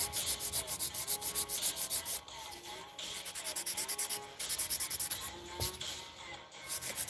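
Acrylic nails being filed by hand, a close scratchy rasping in quick repeated back-and-forth strokes with short pauses between passes.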